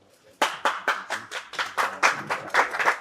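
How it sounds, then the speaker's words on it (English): Audience applause at a screenwriting session during a film festival event, a burst of clapping that starts abruptly and continues steadily, close and fairly loud, with no talk over it. "welcome both with a loud applause"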